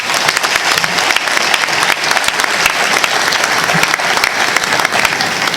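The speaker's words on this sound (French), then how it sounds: "On peut applaudir pour lui." Dense, loud audience applause at an eloquence evening staging a mock trial of Tshombe, a sustained wash of many hands clapping with no break.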